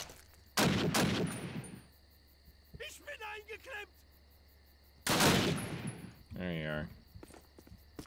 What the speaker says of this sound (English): I'm just trading shots across a goddamn balcony